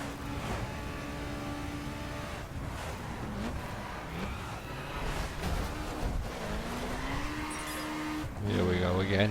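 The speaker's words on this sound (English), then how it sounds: "Here we go again, wheel spinning." A Subaru BRZ in the racing game The Crew spins its wheels under hard acceleration, its engine droning steadily beneath background music and rising near the end, with the revving held throughout.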